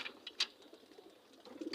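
Pigeons coo softly at a distance, a few short faint calls over a quiet outdoor background.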